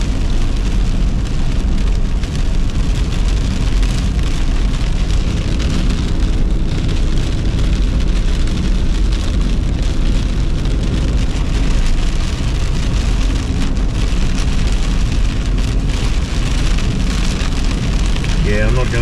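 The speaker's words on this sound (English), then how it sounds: "driving in torrential rain" Torrential rain pounding steadily on a car driving on a road between Porubne and Kyiv, Ukraine, a loud continuous roar of drops over low road rumble with no talking.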